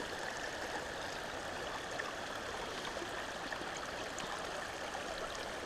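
Steady running water of the East Fork San Gabriel River, a broad continuous rushing and gurgling that stays even and close throughout with no voices.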